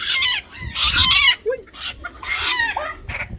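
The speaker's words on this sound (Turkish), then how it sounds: "Abi tavuğa bak ya." A chicken clucks and squawks loudly and close by in several quick bursts, with short pauses between calls.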